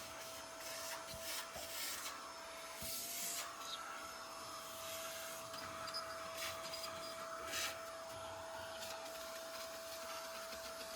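A small Eureka vacuum sucks debris from the nooks of a chimney firebox, a steady whining drone broken by scraping rubs and brief bursts of rattling grit, continuous and close throughout.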